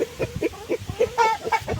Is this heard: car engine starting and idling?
no